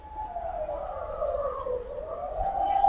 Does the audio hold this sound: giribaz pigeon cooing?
yes